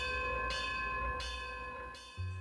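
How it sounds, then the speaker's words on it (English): A silver rope-rung bell on a 1948 Mack fire truck rings in slow, evenly spaced strikes, three clear clangs with long ringing tones between, followed by a brief low thump. "A silver bell rung with a rope"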